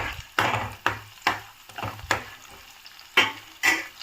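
Green chili, star anise and curry leaves frying in oil for Telangana-style bagara rice, heard as a series of stirring strokes and scrapes repeating about every half second over a soft, steady sizzle.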